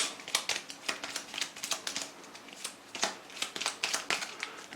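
Small deck of board game cards shuffled by hand at close range: quick, crisp riffling and flicking taps in irregular bursts, with no talk.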